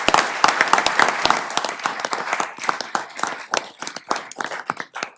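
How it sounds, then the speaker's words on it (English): An audience applauds students with a rapid patter of many hands clapping. It starts loud and full, then thins out and softens toward the end. "let's give them a big round of applause."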